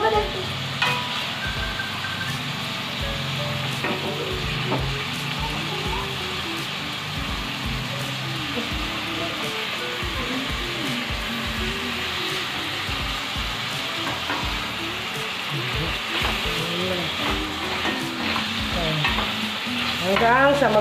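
Meat fries in a pan until brown, giving a steady close crackling sizzle throughout with repeated scraping and stirring knocks of a utensil against the pan, under faint background voices.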